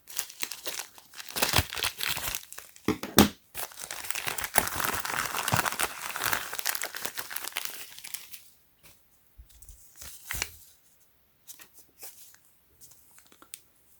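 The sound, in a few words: unwrapping 18650 Li-Ion balance protection board packaging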